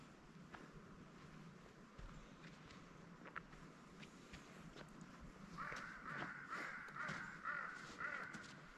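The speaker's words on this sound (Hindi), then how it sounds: "कौवे फिर रहे सुबह सुबह।" Several crows caw repeatedly in the morning air on the road to Nanga Parbat, harsh calls at moderate distance, growing denser and louder in the second half over a low outdoor background.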